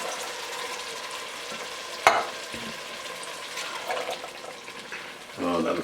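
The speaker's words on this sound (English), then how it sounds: "I'm going to add our tomatoes with the juice. Our beans with the brine." Tomatoes with their juice and beans in brine go into a pan of sautéed onions and garlic for cassoulet, a soft steady sizzle with a sharp splash and some stirring clatter near the end.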